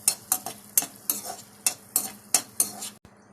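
Chili flakes and minced garlic being stirred into pasta in a pan, a run of about eight scraping strokes with a steady rhythm over a light sizzle, ending in a sudden quiet.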